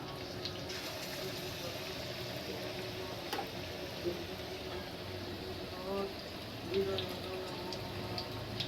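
Dahar duma pakoras fry in hot oil, producing a steady, soft crackling sizzle that continues throughout at a moderate level with occasional small pops.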